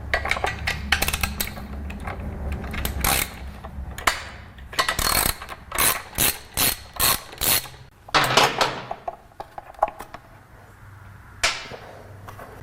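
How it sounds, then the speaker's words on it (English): A ratchet with a long extension and a 9/16 socket removes bolts on a 2005 Harley Sportster air cleaner, with rapid clicking runs, metallic clinks and a steady series of ratcheting bursts close up. "I like to use long extensions on my ratchets to keep from damaging your paint"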